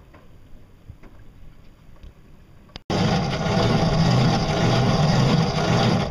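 A pedal-powered boat with homemade fiberglass propellers runs on open water. Faint quiet moments give way to a sudden, steady loud rush of churning water and wind noise that lasts to the end.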